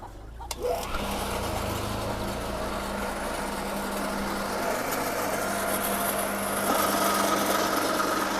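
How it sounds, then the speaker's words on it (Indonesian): A combined chopper and pellet machine for livestock feed starts up and runs steadily, its engine drone and mechanical whir holding at a constant loud level throughout with no talking. "Langsung kita nyalakan mesin."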